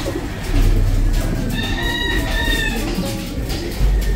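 A young bird nesting outside a cage gives a few thin, faint chirps through the middle of the clip over steady outdoor background noise.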